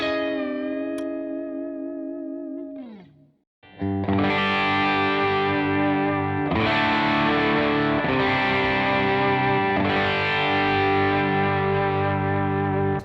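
A PRS Studio mahogany electric guitar with low-turn humbuckers, first ringing a clean sliding chord, then a brief pause before loud, thick distorted chords with heavy effects ring out and sustain, alone and close.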